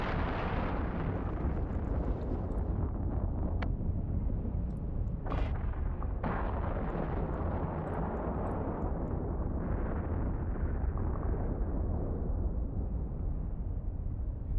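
Missile explosions in EVE Online, a steady roaring rumble of blasts with a few brief sharp pops, loud and unbroken for the whole stretch.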